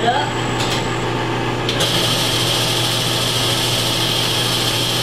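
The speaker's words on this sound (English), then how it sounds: "Let's go over to the lathe and see if we can part this piece off now." A metal lathe parting off a workpiece in a home shop runs with a steady, fairly loud motor whine and a high cutting hiss, heard alone and close.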